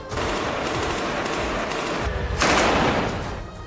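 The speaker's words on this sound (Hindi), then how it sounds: "इससे पहले उन्होंने मकान के अंदर खूब गोलियां चलाई।" Rapid bursts of gunfire crackle continuously inside a house, echoing indoors, with a louder surge of shots near the middle.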